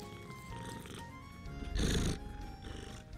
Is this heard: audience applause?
no